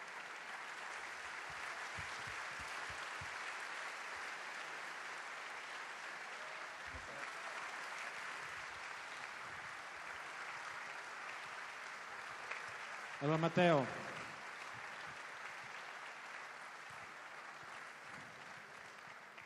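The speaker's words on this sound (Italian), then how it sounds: "facciamone veramente un caldissimo applauso" A crowd at a Lega Nord political rally in Padova applauds Nicola Morosato, steady, moderately distant clapping that runs throughout under a voice and a brief louder spoken burst near the end.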